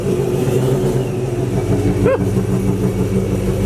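A Chevrolet Silverado RST pickup truck engine, with the truck bed removed, idles and revs close by with a steady rumble, plus a brief squeak partway through.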